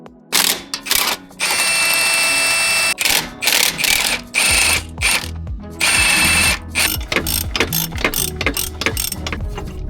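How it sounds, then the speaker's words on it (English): A ratchet works loose the four bolts holding the front differential on a BMW E70 X5, with rapid clicking bursts and brief pauses between spins and short metallic clatters, close and loud with no talk. "all I have to do now is remove the 4 bolts holding it in"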